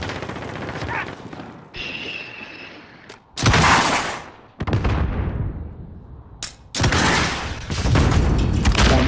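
Call of Duty Modern Warfare combat brings a grenade explosion, heard as loud, broad bursts of blast noise standing out between stretches of gunfire and battlefield rumble, with sharp cutoffs and a few isolated cracks in between.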